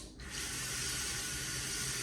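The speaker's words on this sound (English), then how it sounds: "We're gonna start with getting some water in our pot and boiling the water." Tap water pours steadily into a cooking pot for a curry, a continuous rushing hiss that starts abruptly after a brief quiet moment and holds loud and close throughout.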